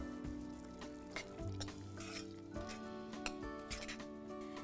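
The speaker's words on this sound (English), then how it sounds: "we're going to add in some fresh tomato, about half a cup of fresh pureed tomato. And then we're going to give that a stir." Pureed tomato is stirred into a sizzling pot of sambar, with a steady frying hiss under repeated spoon scrapes and soft wet squelches, close and fairly quiet.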